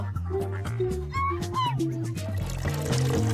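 Fizzy Coke flooding out in a video game, heard as pouring, trickling liquid over a steady, repeating game music loop.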